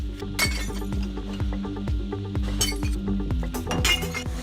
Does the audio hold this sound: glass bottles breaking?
yes